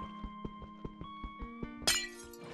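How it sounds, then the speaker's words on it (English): Glass blocks broken in Minecraft: several soft, evenly spaced hits over a tonal game melody, ending in one bright, brief shattering crash. "It's actually kind of satisfying breaking the glass."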